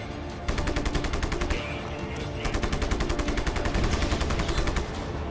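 Rapid automatic gunfire from the video game Just Cause 3 rattles in loud, dense, near-continuous bursts, with a brief lull before the shooting resumes; no talking is heard.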